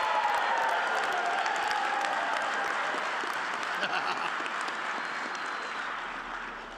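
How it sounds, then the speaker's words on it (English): A graduation crowd at a lineman college ceremony applauds and cheers, a broad sustained roar of clapping that slowly fades, with scattered voices among it. "Feel free to clap, wave, hoot, and holler, whatever you got"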